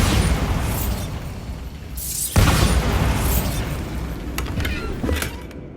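Explosion spells cast in Hogwarts Legacy, loud rumbling blasts with a sharp burst midway and lingering crackling debris, close and continuous, no talk.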